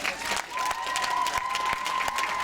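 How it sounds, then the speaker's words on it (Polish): An audience at a regional dance group festival concert claps steadily and warmly for a couple of seconds, a dense crowd applause with a faint tone humming underneath. "Brawa, brawa dla nich."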